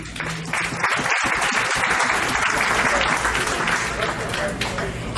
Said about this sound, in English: Please give yourselves a round of applause for picking up the tradition.